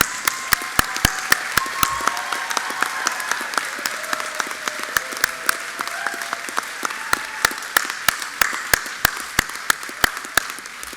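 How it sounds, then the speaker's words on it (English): An audience standing and applauding the lecturers at a Massey University graduation ceremony in Auckland, with a dense wash of clapping punctuated by sharp, nearby individual claps that continue steadily throughout. "can you please join with me and be upstanding, acknowledge and applaud those very special people"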